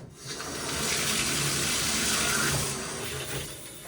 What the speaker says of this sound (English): water is coming out of the main and out of the secondary head